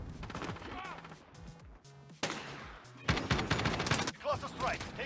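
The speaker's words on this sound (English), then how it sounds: "Cluster strike. Take cover." Cluster strike in the Modern Warfare video game: a string of sharp explosive blasts and crackling bursts arriving in clumps, loud and close, with game voice callouts heard between the impacts.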